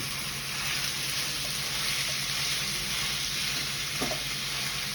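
Ground pork frying in a pan at home, a steady loud sizzle with crackling that runs throughout, with no talking over it.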